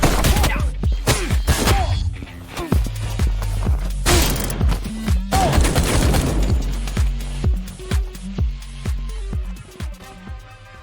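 Gunfire from the action video game Suit for Hire: dense bursts of shots, thuds and impacts overlap with reload clicks and combat hits, loud and continuous throughout.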